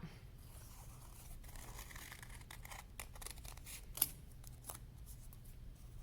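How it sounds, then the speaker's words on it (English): Scissors cut out a hand shape drawn on paper for a skeleton craft, giving quiet, close snipping and crisp paper rustle in an irregular run of cuts with no voices. "I'm going to stick with this one right here, and I'm going to cut it out"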